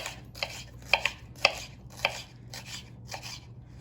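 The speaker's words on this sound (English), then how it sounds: "This is our green pepper, and I'm just gonna cut a little bit off." A knife cuts a green pepper on a cutting board in a short run of crisp, uneven chops, close and fairly quiet.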